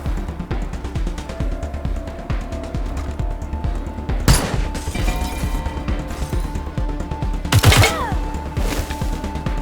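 Sustained gunfire in the game Wasteland 3, a steady rattle of rapid shots with two sharper, heavier blasts standing out partway through, loud and continuous.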